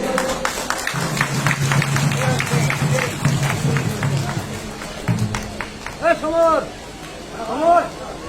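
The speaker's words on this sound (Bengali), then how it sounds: "একটু স্বপন বাবুর জন্য হাততালি জোরে।" A school event audience claps for Swapan Murmu during a Hul Diwas observance, with scattered hand claps and crowd murmur under an amplified voice and a steady hum.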